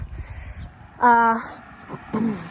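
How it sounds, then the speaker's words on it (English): A crow caws near a suburban neighbourhood street, giving one loud harsh call followed by a second shorter caw, with faint background noise between. "Birds are really cool too."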